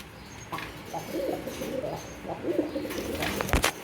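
Rajshahi Giribaz pigeons coo in soft, repeated low murmurs at close range, with a few faint clicks and scuffles among the birds toward the end.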